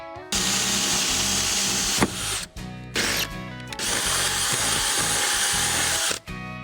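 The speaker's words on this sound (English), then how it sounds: "first we're gonna start with something a little bit smaller as a pilot hole" A power drill drills a pilot hole for mounting a Chevy Silverado 1500 mirror, whining steadily at high speed, pausing briefly a few times then resuming, loud and close, with no voices.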